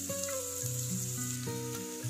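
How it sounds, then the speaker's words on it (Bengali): Chopped onions and ginger fry in a pan, giving a steady, quiet sizzle that runs the whole time beneath a sustained musical tone. "পেঁয়াজটাকে একটু নাড়াচাড়া করে নেব।"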